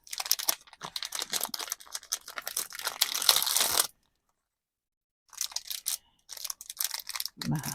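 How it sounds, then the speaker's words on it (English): Plastic bag crinkling loudly and close as silicone molds are pulled out, in dense crackling bursts with a brief silent pause midway. "Excuse the crinkle noise."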